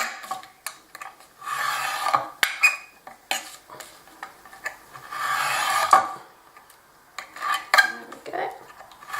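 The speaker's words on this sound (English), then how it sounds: "we're just going to cut down the edges with a sharp bladed knife" A sharp bladed knife trims the edges of a handmade album cover, with repeated rasping, scraping cuts in irregular bursts, close and fairly quiet, separated by short pauses.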